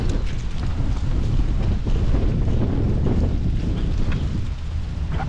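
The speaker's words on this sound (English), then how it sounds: "the wind is really kicking up" Strong wind buffets the microphone outdoors in Wisconsin's Kettle Moraine State Forest, a loud continuous low roar with gusty surges throughout.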